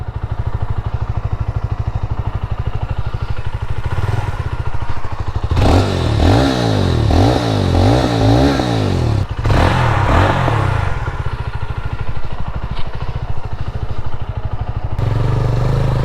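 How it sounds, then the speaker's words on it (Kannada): A 2024 Jawa 42 FJ motorcycle idles with a loud, even exhaust thump, then revs hard in two rising and falling bursts before settling back to a close, steady idle. "ಎಕ್ಸಾಸ್ಟ್ ಕೇಳ್ತೀರಾ"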